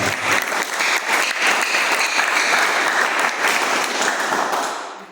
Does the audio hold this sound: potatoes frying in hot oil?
no